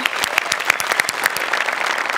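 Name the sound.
audience applause for a comedy performance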